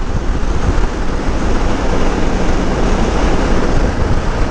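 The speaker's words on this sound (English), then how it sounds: "South wind's a little bit prickly today." Heavy wind buffeting a rider on a motorcycle highway trip, with a gusty south wind; a loud, steady, broadband roar fills the whole stretch with no letup and no talk.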